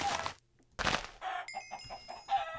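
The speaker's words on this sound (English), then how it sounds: "Oh yes, another gigantic flock of chickens." Game chickens from a gigantic flock cluck in a string of short, close bursts, with a brief gap near the start and a doorbell-like chime layered over the later clucks.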